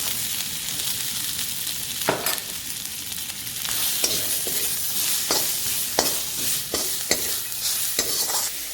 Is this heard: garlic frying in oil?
yes